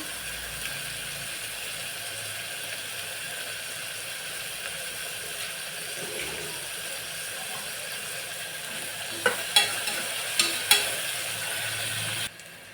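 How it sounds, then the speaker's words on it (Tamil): Onions sautéing with a little salt in a pan give off a steady, close hiss of sizzling, with a few sharp stirring knocks near the end. No one speaks. "வெங்காயம் வதங்கிறதுக்கு கொஞ்சம் உப்பு போட்டுக்கலாம்"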